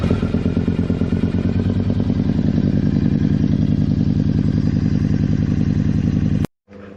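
A Yamaha MT-01 motorcycle engine warming up, a loud, close, rapid lumpy thump of the big twin idling steadily, cutting off abruptly near the end.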